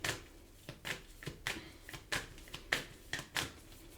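Tarot cards are shuffled by hand, a close, quiet series of sharp riffling slaps and flicks repeating about every half second.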